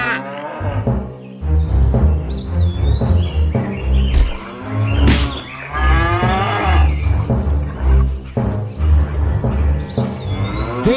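Cows moo loudly several times in a row, with deep, drawn-out, overlapping calls and a few higher bird chirps in between.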